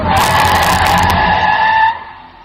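A car skids loudly in a horror story sound effect, a sustained screeching tire squeal with engine noise for about two seconds before it fades out abruptly.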